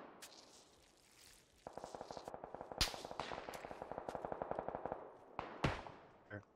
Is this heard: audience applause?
no